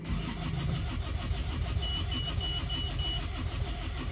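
An Isuzu Panther engine, freshly rebuilt after heavy blow-by, starting up and settling into a steady rumbling idle with a faint high whine riding on top, close and alone.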